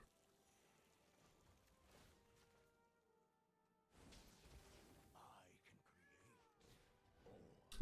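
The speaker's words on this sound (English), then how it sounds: "I'm just like listening to this cat back here in the background, just going crazy." A cat in the background meows and caterwauls loudly, with several drawn-out, rising and falling cries clustered toward the end, mixed with faint voices and soft ambient noise.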